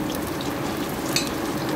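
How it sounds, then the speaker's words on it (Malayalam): Potato pieces half-cook in hot oil, giving a steady, dense frying hiss that stays close and even throughout, with no talking. "ഇങ്ങനെ എണ്ണയിലൊന്ന് ഹാഫ് കുക്കാക്കി എടുക്കും ഞാൻ."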